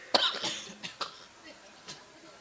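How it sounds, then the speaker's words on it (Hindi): A single harsh cough bursts out near the start, followed by a few softer throaty coughs and breaths fading off. "जब इतना खांसी आवे लगा"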